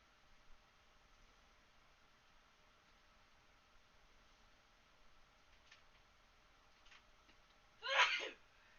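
A single sharp sneeze bursts out near the end of an otherwise quiet stretch with faint background hiss.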